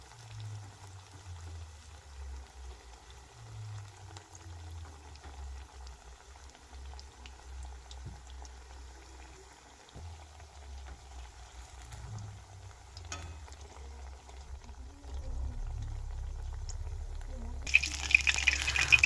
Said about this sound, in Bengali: খুন্তির সাহায্যে এদিক ওদিক ভালোভাবে ভেজে নেব।